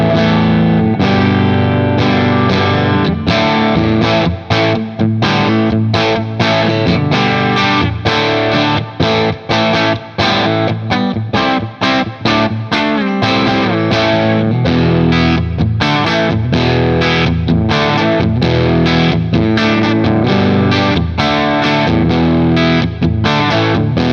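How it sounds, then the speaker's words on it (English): Uraltone Jr kit guitar amp cranked with its controls on full, giving a thick, continuously distorted, loud guitar sound with fuzzy, edge-of-breakup grit and chorus-like shimmer, strummed chords running steadily throughout with no talking. "To me, it sounds like an amp on the edge of breaking down."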